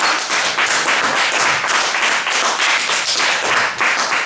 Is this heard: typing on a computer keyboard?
no